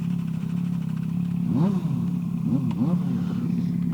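A 1998 Kawasaki ZXR250 250cc inline-four motorcycle engine, revving to 20,000 RPM, idles steadily, then is blipped sharply several times, its pitch sweeping up and dropping back, loud and close.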